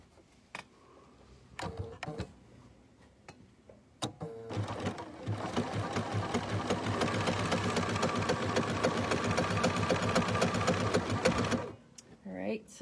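A sewing machine stitches a zigzag around the edge of a fabric bowl, first in a few short starts, then running steadily and loudly for about seven seconds of fast, even needle rhythm before stopping.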